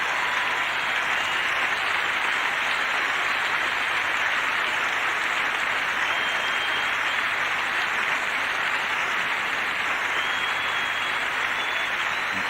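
Steady, dense applause from the Wimbledon Centre Court crowd after the 1978 ladies' final between Navratilova and Evert, sustained clapping with no break for over twelve seconds.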